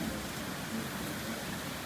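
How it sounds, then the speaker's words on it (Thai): Steady, dense hiss of heavy rain pouring down without a break, no voices or other sounds standing out over the constant wash. "ฝนตกแรงมาก"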